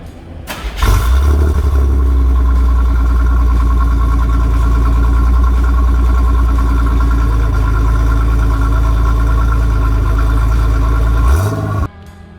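A 1982 Chevrolet Citation X11 with a 2.8 engine cold-starts with a cranking burst, then settles into a loud, steady, throaty idle from its tuned exhaust, close by, before shutting off near the end.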